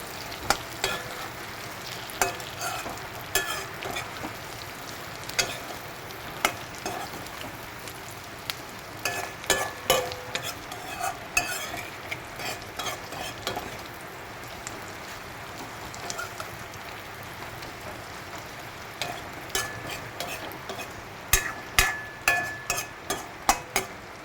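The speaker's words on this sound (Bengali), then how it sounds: "আমি ভালো করে এটার সাথে মিক্স করে নেব আলুটাকে তেলের সাথে," Potatoes frying in oil with onion while being stirred, a steady close sizzle punctuated by repeated scraping and clacking strokes of the utensil against the pan, with no voices.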